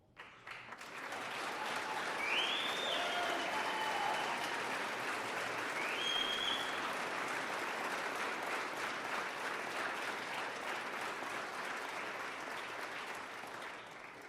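Audience applause at a city council meeting, steady dense clapping from a crowd that starts abruptly and continues throughout, filling the room at an even level before easing slightly near the end.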